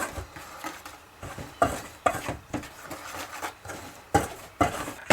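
A whisk beats flour, salt and sugar together in a bowl, producing a quick rhythmic run of scraping, tapping strokes against the bowl sides, close and moderately loud, with no voices.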